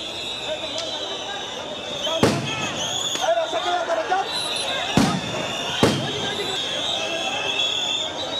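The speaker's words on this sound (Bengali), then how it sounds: "মুহুর্মুহু সাউন্ড গ্রেনেড আর জলকামান দিয়ে শিক্ষকদের শাহবাগ থেকে সরিয়ে দেওয়ার চেষ্টা পুলিশের।" Police sound grenades go off at a teachers' protest at Shahbag, with three sharp blasts cutting through steady crowd noise and distant voices over about eight seconds.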